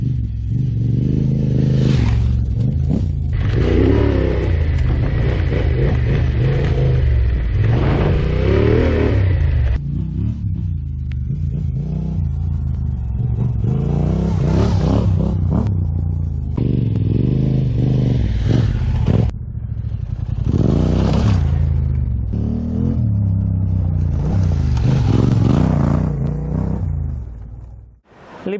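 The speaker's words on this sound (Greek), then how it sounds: "αυτό είναι το μηχανάκι μου, Tenere 700." Yamaha Ténéré 700 motorcycle engine revs repeatedly, loud and close, with throttle blips rising and falling in several bursts over a deep idling rumble and some mechanical clatter, no talk.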